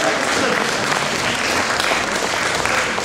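Stormy applause from a restaurant audience greeting Oksana at a name-day celebration with a live ensemble, dense, loud and continuous clapping from many hands filling the room without a break.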